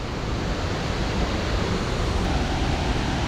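Waterfall in Laos, a constant broadband rush of falling water, loud and even with no breaks, heard without any voices.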